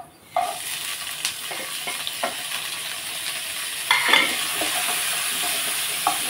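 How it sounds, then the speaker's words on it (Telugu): Green chilies, cumin, garlic and coconut fry in a pan with a steady close sizzle, punctuated by scraping stirs and clinks, no talking. "పచ్చిమిర్చి, జీలకర్ర, వెల్లుల్లిపాయ, కొబ్బరి కూడా మనం వేసేసి కొంచెంసేపు ఫ్రై చేసుకుందాం"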